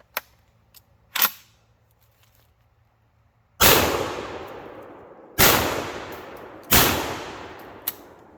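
A Lynx 12 shotgun fires from its magazine: three loud, sharp blasts spaced a couple of seconds apart, each trailing off with echo, after a few quieter mechanical clicks and clacks.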